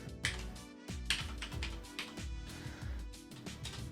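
Keys clatter on a computer keyboard in quick, uneven bursts, close and fairly loud, set against a steady background hum.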